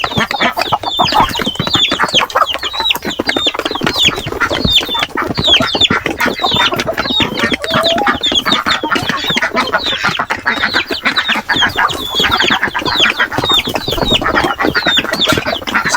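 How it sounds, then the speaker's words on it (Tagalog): Native chickens cluck in a dense, continuous chorus close by, many birds calling at once under bamboo, loud and steady throughout with no talk. "Yung ating mga native na manok,"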